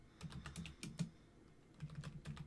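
Typing on a computer keyboard, with quick irregular bursts of clicking keystrokes close to the mic that pause briefly in the middle, with no voice present.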